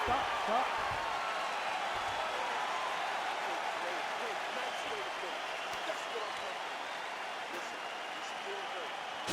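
A virtual arena crowd in the UFC 4 fighting game applauds after a round, a steady, dense wash of clapping and cheering that holds evenly throughout.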